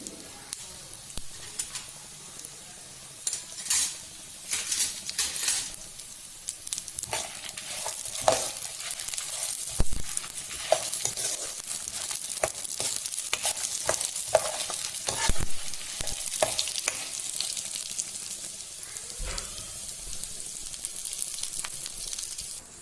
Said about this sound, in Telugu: మంచి స్మెల్ వచ్చే వరకు ఫ్రై చేసుకోవాలి.